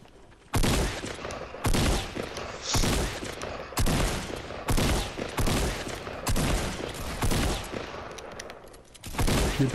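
Bursts of gunfire from the battle royale game Fortnite crack out in about eight loud, closely spaced volleys, each a rapid rattle of shots separated by brief lulls.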